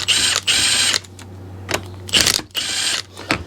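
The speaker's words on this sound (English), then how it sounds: "use the ratcheting box end wrench to tighten that" A ratcheting box end wrench tightens a new 13 mm rear shock nut on a Mazda 3, heard as bursts of fast, crisp clicking at close range separated by short pauses.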